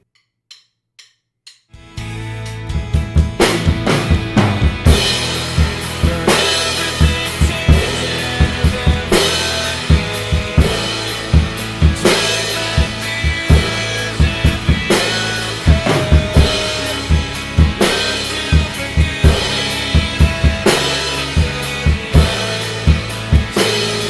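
A drum kit plays along with a song, loud and continuous, with steady kick and snare hits under the full band recording after a few quiet count-in clicks.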